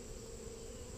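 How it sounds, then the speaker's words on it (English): Honey bees swarm over the frames of an opened hive, giving a faint, steady buzzing hum with no break during the brief moment. "These frames are pretty loaded with bees."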